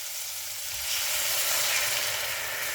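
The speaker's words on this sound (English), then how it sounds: "And then I add the 100 milliliters of dry white wine." Dry white wine hits a hot pan, raising a steady hissing sizzle that swells slightly and holds, close and even, with no voices.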